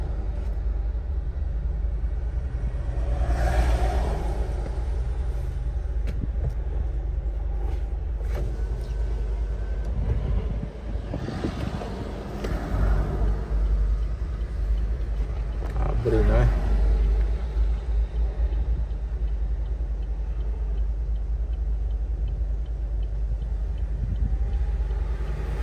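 A car with a 1.4 engine passes along a city street in Itajaí, Santa Catarina, its rumble rising and fading a couple of times over steady low street noise, with people talking nearby.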